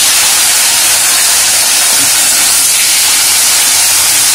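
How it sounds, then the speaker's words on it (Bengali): Crab pieces and claws rubbed with salt and turmeric fry in mustard oil with a loud, roaring hiss of sizzling, continuous and very close, with no voices. "সেটা ভালো করে ভেজে নেব।"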